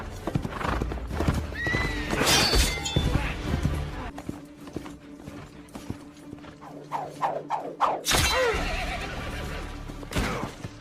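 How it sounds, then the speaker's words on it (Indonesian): Horse galloping hard through the night in the film Gladiator, with loud rapid hoofbeats, repeated whinnies and neighs, and a dramatic soundtrack underneath. "Secepat mungkin dia membawa kuda menuju rumahnya melewati malam"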